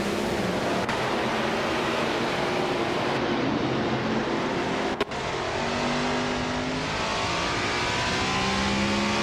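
Race cars in an AI-driven racing video game roar continuously at full throttle, with engine pitch rising and falling as they accelerate and a brief sharp click near the middle, with no talk over it.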